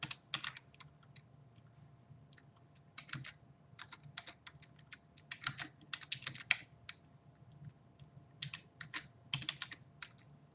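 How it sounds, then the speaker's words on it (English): Typing on a computer keyboard, quick irregular bursts of key clicks close by, pausing and resuming throughout over a quiet room hum, with no talking. "I'm going to type them out, okay, real quick."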